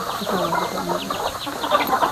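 Chickens cluck repeatedly nearby, a busy overlapping chatter of several birds with no talking.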